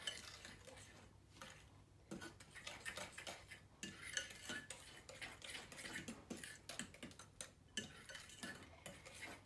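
A spoon stirs corn syrup into butter tart filling in a bowl, clinking and scraping faintly against the sides in quick irregular strokes over a low steady hum, with no one speaking.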